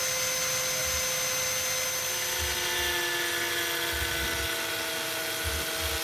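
An angle grinder cuts through tile for wall cladding, giving a loud, continuous high whine with steady tonal drone that holds for several seconds without pause or voices.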